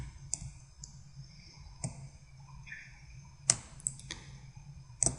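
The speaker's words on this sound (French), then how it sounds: "Je clique sur sauvegarder." Computer mouse clicking, a handful of sharp, close, isolated clicks spaced irregularly over a quiet background, with a quick double click near the end and no talk.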